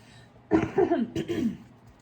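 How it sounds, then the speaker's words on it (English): A short, gravelly throat clearing close to the mic, two rough bursts in quick succession before it trails off into quiet. "let me clear my throat"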